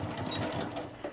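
A sewing machine runs steadily, stitching quilt binding with a 1/4 inch seam, its motor hum and needle clatter continuous and close for the whole moment with no talking.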